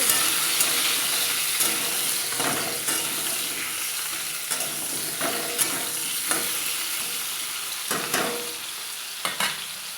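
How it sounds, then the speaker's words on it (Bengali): Potatoes frying in hot oil in a kadai for a meat curry, a steady loud sizzle filling the whole stretch, broken by regular scraping clicks of a spatula stirring, close and without talk. "আলুটা ভেজে নেব।"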